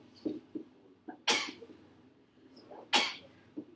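Two sharp sneezes about two seconds apart, close and loud, with faint murmurs and small sounds between them in a quiet room.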